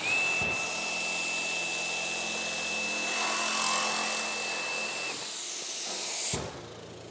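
A Hilti cordless reciprocating saw runs steadily through PVC for about six seconds, a continuous buzzing, hissing whine with a high tone, then winds down and stops abruptly.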